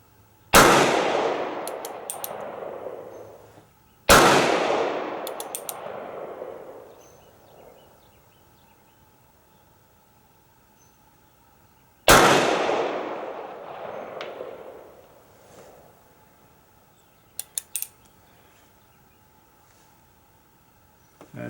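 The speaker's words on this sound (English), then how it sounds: "Concentrate on my shooting." Standard Mfg. single action revolver fired at a shooting range: three loud, sharp shots spaced several seconds apart, each ringing out with a long echoing decay, plus a few faint clicks near the end.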